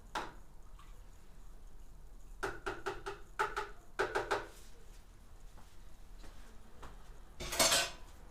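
Fruit mash brewed from grape juice concentrate being stirred in a container, with clusters of clinking, scraping knocks of the spoon against the sides and a brighter clatter near the end, no voices.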